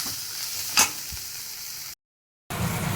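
Bitter gourd frying in a pan with turmeric and salt: a steady, fairly quiet sizzle with a soft stir or scrape partway through, then a brief dropout before the hiss resumes.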